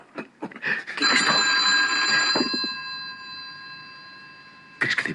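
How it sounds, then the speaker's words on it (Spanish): An old-style telephone rings with a bright, sustained bell tone for about two seconds, which then fades and starts again at the end, following a few soft footsteps and shuffling noises in a quiet room. "¿Crees que debemos contestar el teléfono?"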